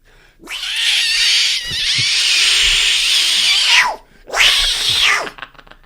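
A man imitates a cat, giving long, loud, drawn-out meows and caterwauls close to the mic, two sustained yowls broken by a short gap.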